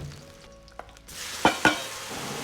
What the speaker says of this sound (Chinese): 接着放入姜葱，先煸炒出香味